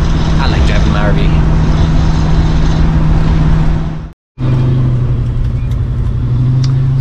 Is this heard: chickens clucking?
no